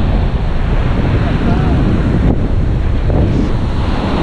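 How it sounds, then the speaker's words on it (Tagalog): Sea waves roll and wash steadily during a typhoon, mixed with heavy wind buffeting the microphone. The noise is loud and continuous, with no clear voices. "Grabe na naman itong alon na ito."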